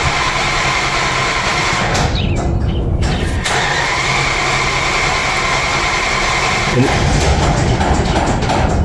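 A 1981 Aston Martin V8 Volante that has sat unused for months is started, its engine turning over with a loud, rough mechanical roar that runs continuously through the clip.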